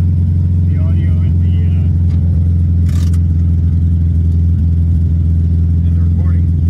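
An old VW Notchback's engine idles high at a stoplight, a steady low hum and drone running throughout alongside light clatter, with a brief hiss burst midway.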